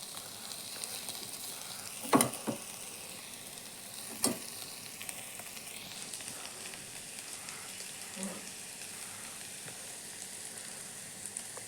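Bitter gourd softening in a frying pan gives a faint steady sizzle, broken by a couple of sharp spoon clinks and scrapes as it is stirred, with no voices.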